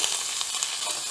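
Onions fry in hot oil in a pan, giving a steady bright sizzle with a few faint pops, close and unbroken for a brief moment.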